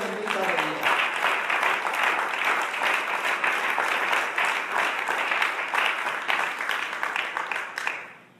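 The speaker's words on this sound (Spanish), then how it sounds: "Denle un aplauso fuerte a la gloria bendita de Dios." Church congregation gives a loud, sustained round of applause, dense continuous clapping that fills the room for several seconds before tapering off at the end.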